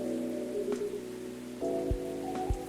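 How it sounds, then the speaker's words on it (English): Pouring rain in the cozy cafe game Coffee Talk, a soft steady patter under a low ambient music bed with a few gentle thuds; no talking. "Pouring rain."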